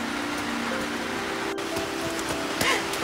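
Heavy rain falls in a continuous dense hiss with scattered drop patters and no pause, while faint voices are heard behind it.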